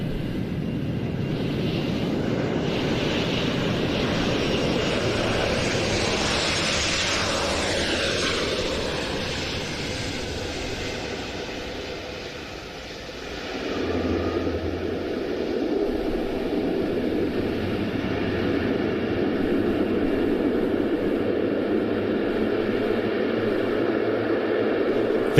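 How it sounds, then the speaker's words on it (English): Jet aircraft landing during a flying display at the Royal International Air Tattoo, a steady loud roar that dips briefly and then swells again as the engine noise carries across the airfield, with no voices. "That is very dramatic as the aircraft comes into land almost halfway down the runway."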